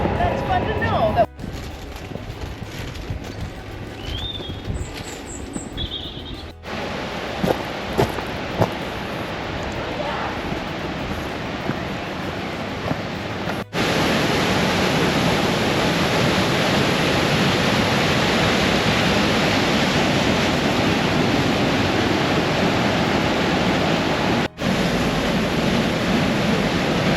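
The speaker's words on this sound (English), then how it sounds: "So welcome to Llanberis Falls." Llanberis Falls waterfall roaring as a steady broadband rush of water, growing louder and fuller partway through and continuing as a constant close wash of sound.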